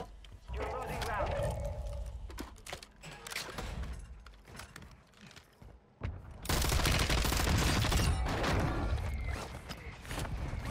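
RAPP-H machine gun fire in Call of Duty Warzone on Ashika Island, rapid bursts of loud automatic shots with short gaps, then a longer sustained burst, mixed with game effects.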